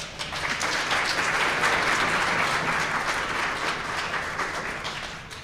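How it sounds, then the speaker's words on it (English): A crowd applauds steadily, a dense wash of clapping that holds strong and then slowly tapers off. "Let's give them a round of applause."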